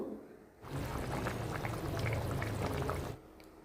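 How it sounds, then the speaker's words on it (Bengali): Water is poured into a pot of mutton curry in one steady stream of about two and a half seconds, fairly close and soft, with no talk. "জলটাও একটু বেশি দেব"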